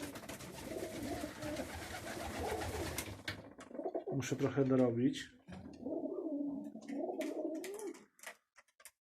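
Pigeons coo in a deep, rolling burst, heard alongside a person talking and rustly background noise before the sound fades out.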